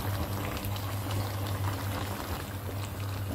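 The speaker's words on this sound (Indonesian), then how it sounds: "mendidih lagi guys" Fish head curry made with a large jenak fish of over two kilos boils in a pot, a steady close bubbling and hiss with a low hum underneath, continuous throughout and without speech.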